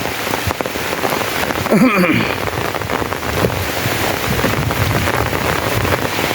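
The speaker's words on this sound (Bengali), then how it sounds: "এই যে দেখতে পাচ্ছেন অনেক বৃষ্টি হচ্ছে" Heavy rain pours steadily outdoors among mud-walled houses, a dense continuous hiss close to the microphone with gusts of wind buffeting it throughout.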